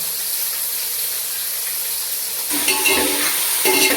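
Onions frying in oil and being stirred until brown for homemade chicken dum biryani, a constant sizzle that grows louder and busier with clattering stirs in the last second and a half.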